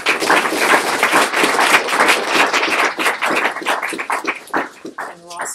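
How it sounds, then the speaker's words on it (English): Audience clapping after a talk at a session, a dense burst of applause that carries on for several seconds, gradually thinning toward the end, with a few voices audible among the claps. "Clapping."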